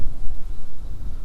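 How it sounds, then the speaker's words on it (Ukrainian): Strong wind buffets the microphone in a steady, loud, low rumble with gusty swells, and no voices are heard, on the Horyn River. "Дуже вітряно і вітер якраз з боку"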